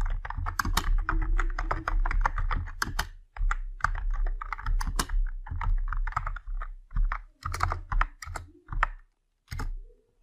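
Computer keyboard typed on while entering terminal commands to check Apache 2, MySQL and PHP on Ubuntu: quick irregular bursts of key clicks with short pauses, close and fairly quiet, no voices.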